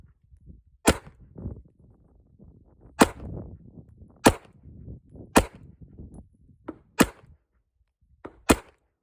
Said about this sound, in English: So I'm going to shoot top right.